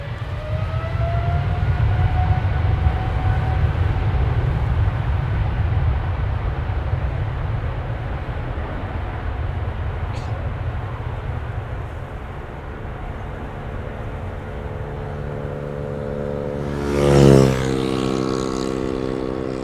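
A departing airliner at Amsterdam Schiphol Airport, with landing gear left extended after takeoff, makes a loud, steady jet roar with a rising whine. The roar swells briefly near the end.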